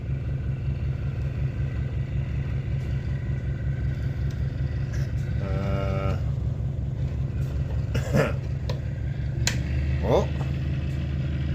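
A cheap permanent magnet alternator driven by a small engine is spun up slowly, giving a steady rumbling mechanical hum with a brief rising whine partway through and a short voice exclamation near the end.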